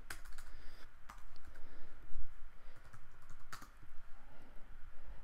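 Keystrokes on a Mac keyboard as a command is typed into Terminal, a quick run of close, soft clicks with a few sharper taps, heard alone with no voices.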